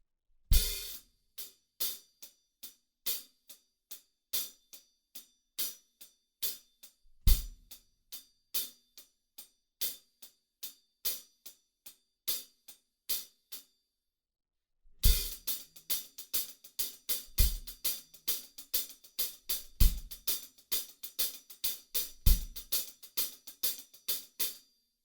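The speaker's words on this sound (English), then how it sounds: "we've got a 16th note accented pattern over on the hi-hats, and it sounds like this" A drum kit plays a song's drum part: a crisp 16th-note hi-hat pattern with accents, sparse at first with occasional kicks, then fuller and denser after a short gap, loud and close, no talking.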